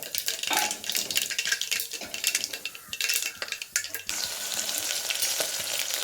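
Cumin and mustard seeds frying in hot oil give a close, steady sizzle with crackling pops, broken by sharp clinks of a utensil stirring against the pan.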